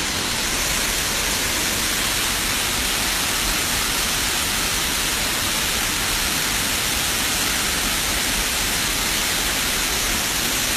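A small but high waterfall in Hua Phan province, northern Laos, roars as a constant broadband rush of falling water, loud and unbroken with no voices.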